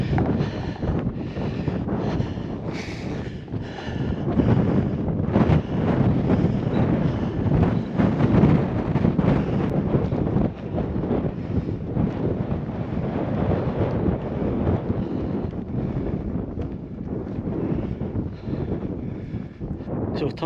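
Gusty wind buffets the microphone in rough, fluctuating rumbles, loud and continuous with brief lulls, on the hill Geal-charn Mòr near Aviemore, Scotland.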